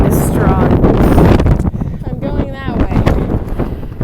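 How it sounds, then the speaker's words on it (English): Strong wind buffeting a microphone on a mountain trail along the Appalachian Trail near Roan Mountain, a loud continuous roar with gusts, heard under a hiker's voice talking. "The wind is strong."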